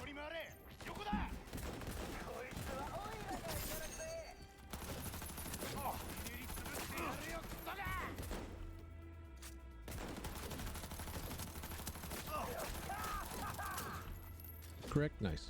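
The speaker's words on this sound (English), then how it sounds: "I can use a submachine gun, right?" Rapid bursts of submachine gun fire in Cyberpunk 2077, repeated volleys and clattering shots with impacts, mixed with game sounds throughout.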